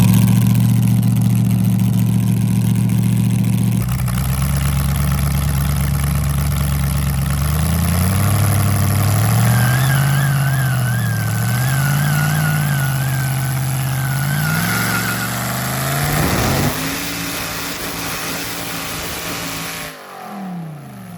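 A work truck engine with header-dumped exhaust revs repeatedly, loud raw bursts rising and falling over a rough idle, then climbing in one long pull before cutting off near the end, with no talking.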